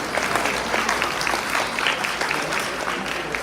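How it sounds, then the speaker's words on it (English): Steady applause from a gala audience honoring the evening's performers, a dense wash of clapping that holds at an even level for the full stretch. "a round of applause for all of our performers this evening"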